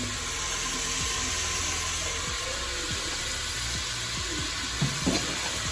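Onions and tomato frying in a pan for chicken curry, a soft constant sizzle with light scraping stir strokes, closer and briefly louder near the end.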